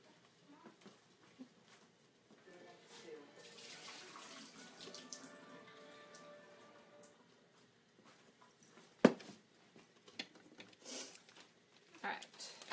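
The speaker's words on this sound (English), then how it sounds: "I'm just going to drain the water" Water from thawed tilapia packages draining into a sink, a faint, thin trickle lasting a few seconds amid quiet kitchen handling noises and a sharp knock, with someone speaking quietly.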